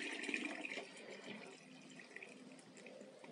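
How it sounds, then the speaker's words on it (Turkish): Cherry laurel (taflan) water is poured into a homemade eco-friendly cleaning mixture, a soft, steady liquid trickle and splash at close range, faint and continuous with no talking. "Tabii ki taflan suyunu da ekliyorum arkadaşlar."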